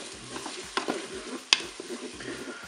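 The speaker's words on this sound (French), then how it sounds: "On mélange bien sûr tout ça." Maize, peas and rice being stirred in a Cookeo pot for cantonese rice: soft sizzling with a spoon scraping and clacking against the pot in uneven strokes, a sharp knock halfway through, close and with no voices.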